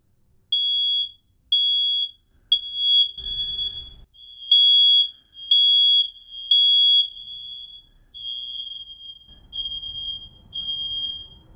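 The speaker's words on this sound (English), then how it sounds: "Did you hear all the other alarms going off?" A smoke alarm being tested emits loud, piercing high beeps in a steady repeating pattern, with several interconnected alarms chiming together and faint rumbling underneath.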